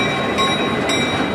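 An EMD electro-motive diesel locomotive train at the Orange Empire Railway Museum in Perris, California, giving a loud, heavy, continuous rumble with thin steady metallic tones over it.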